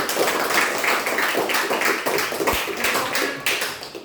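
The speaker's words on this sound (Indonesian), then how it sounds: "berikan aplaus untuk kelompok 3" A classroom audience claps for a student group during a teaching practice session, a dense, steady patter of many hands sustained throughout.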